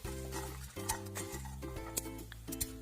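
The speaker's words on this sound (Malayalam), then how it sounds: "ഉഴുന്ന് പരിപ്പിൻ്റെ കളറൊന്ന് മാറുന്നത് വരെ ഒന്ന് ഇളക്കി കൊടുക്കാം." Urad dal and curry leaves being stirred as they roast in a pan, with repeated scrapes and light clinks of a spoon against the metal under a soft sizzle and a low hum, close and quiet.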